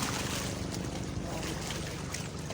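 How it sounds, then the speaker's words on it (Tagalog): A passenger boat crossing the water near Navotas, heard as a constant loud engine drone blended with wind and lapping waves, dense and unbroken throughout. "yan yung isang bangka na papunta na dito"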